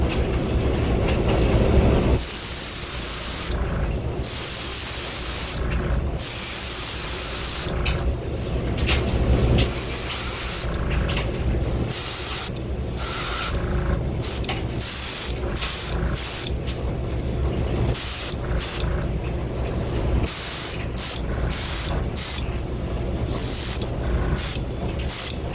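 A spray gun lays a second coat of transparent bright red paint onto a V29 body, giving a steady broad hiss broken by short pauses as the trigger is released and pressed again.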